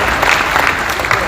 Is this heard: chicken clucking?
no